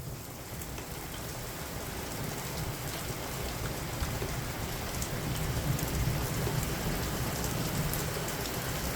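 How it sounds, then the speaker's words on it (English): Hard, driving rain from a supercell thunderstorm in Richmond Heights, a thick steady wash of drops with low rumbling thunder building underneath toward the end. "Now this is a real thunderstorm."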